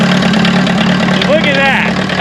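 Diesel engine on a wrecked car starting after its glow plugs heat, then running with a loud, steady idle rumble close by while a person speaks over it.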